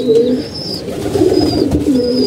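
Several pigeons coo together in a backyard loft at feeding time, a loud, close, continuous rolling murmur with a few thin chirps on top and no talking.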